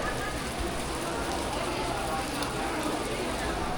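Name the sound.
rain falling in Bangkok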